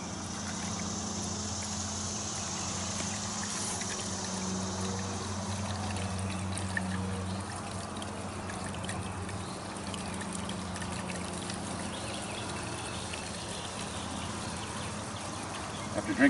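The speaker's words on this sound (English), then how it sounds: "So you're just gonna take this gallon of bleach and pour it in slowly." Bleach pours and trickles from a gallon jug into a well in a steady stream for a long stretch, with a low mechanical hum running underneath.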